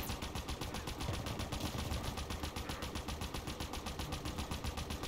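Rapid turret gunfire from a Halo Infinite match, a steady, loud stream of repeated shots running the full length without pause.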